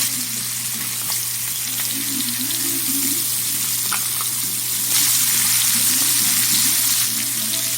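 Chicken sizzles steadily in a hot frying pan after being flipped, a loud, continuous crackling fry with occasional small pops, close and unbroken, with no talk.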